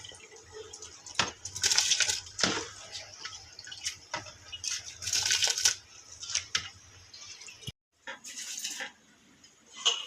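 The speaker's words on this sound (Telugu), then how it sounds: "ఎసట్లో బియ్యం వేస్తున్నా ఇప్పుడు." Rice being tipped into a pot of boiling water, with scattered watery drips, splashes and light clinks of metal cookware, close and moderately loud, with a brief gap near the end.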